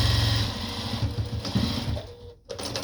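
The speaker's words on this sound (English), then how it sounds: "you can just push it to the back and go ahead and sew that down" A sewing machine runs steadily while stitching down the flap of a small apron, a close, rapid mechanical whir that falters and briefly cuts out near the end before starting up again.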